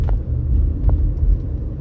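A rat rod car rumbles past in traffic on the Las Vegas Strip, a loud, deep, continuous engine rumble heard close without talk.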